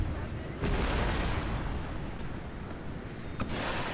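Artillery pounds fortress walls in the Darthmod Empire battle, with booming blasts at the start and near the end over a continuous rumbling battlefield roar.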